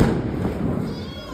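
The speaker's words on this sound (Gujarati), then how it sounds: "અમારે બધા અત્યારે ફટાકિયા ફોડવાનું ચાલુ થઈ ગયું છે" Firecrackers go off in a residential street during a Lakshmi Puja festival evening, a dense continuous rumble of bursts and thuds heard at some distance, with no clear single pops standing out.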